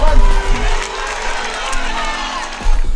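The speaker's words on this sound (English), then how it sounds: "Give a big cheer for a breakaway group of riders" Crowd cheering and shouting at the finish line of the Nenagh Classic cycling race as a breakaway group of riders comes in, a broad continuous roar of voices with louder swells at the start and end.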